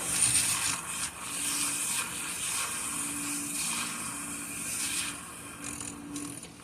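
Handheld frother whirling boba drink powder into liquid, a steady high-pitched whirring buzz with a faint mechanical rattle running continuously, no talk.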